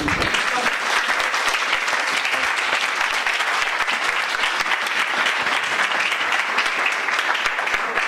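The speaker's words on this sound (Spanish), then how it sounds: "Y un último aplauso, por favor," At a health-policy forum on medicines, the audience gives a final sustained round of applause for three panelists, a loud, dense, unbroken patter of many hands lasting the full eight seconds.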